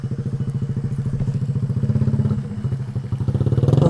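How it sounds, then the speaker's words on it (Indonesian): A motorcycle engine runs close by on a rough, slippery village road, a steady pulsing putter that carries on for the whole stretch with a few knocks and rattles mixed in. "Wah, tuh ada motor."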